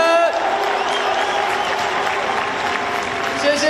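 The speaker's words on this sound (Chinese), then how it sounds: "邀请我们所有的球迷给我们洪总一个热情的掌声" Baseball fans at a stadium give the head coach a long round of applause during a post-game ceremony celebrating his 1000th career win. Dense, steady clapping and crowd noise fill the whole stretch, with a faint tone running underneath.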